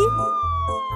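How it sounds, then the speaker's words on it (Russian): Cartoon fire truck siren, a loud, clean electronic wail with a steady tone and a low pulsing undertone, sounding alone for about a second. "Включаем сирену и..."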